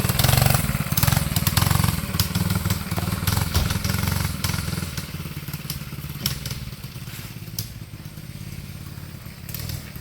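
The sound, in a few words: Coleman CK100-S go kart engine running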